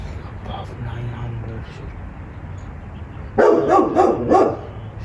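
A dog behind a fence barks in a burst of several quick, loud yaps near the end, over steady low background noise.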